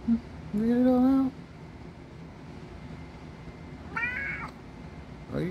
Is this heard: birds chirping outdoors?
no